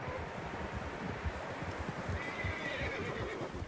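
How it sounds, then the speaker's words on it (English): Several horses whinny and neigh while hooves clip-clop steadily underneath, a busy herd close by in the Red Dead Redemption 2 video game, with a soft wind rustle in the background. "Horses, quite a few of them."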